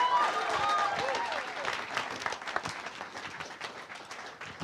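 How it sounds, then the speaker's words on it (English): Audience at a senior stand-up comedy show applauds the comedians, a dense wash of clapping that starts strong with a few voices and whoops, then thins slightly as it continues. "How about a round of applause for all the comedians you've seen tonight?"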